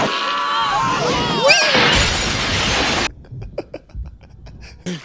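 Glass shatters loudly in a Back to the Future Part II film scene, a bright crashing burst over music and sound effects, followed by scattered quieter clinks and noises.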